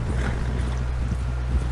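Horse hooves clip-clop in the Western video game Red Dead Redemption, a steady close walking rhythm over a low ambient hum, with no talk.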